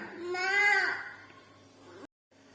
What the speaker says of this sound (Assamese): আনফালে এয়া ল'ৰাই কান্দি আছে